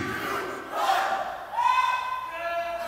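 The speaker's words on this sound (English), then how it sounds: "Make some noise for Napalm!" A crowd roars and cheers at the American Beatbox Championships Founders Tournament top-four round. The loud, sustained mass of voices swells twice and carries shouted calls within it.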